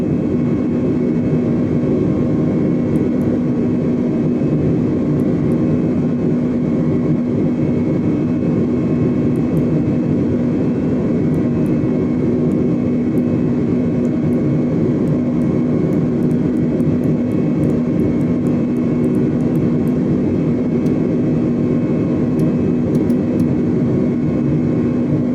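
Airbus A320 jet engines roaring steadily during the takeoff roll in a flight simulator, a loud, continuous low rumble with a constant whine on top that holds unchanged, no voices.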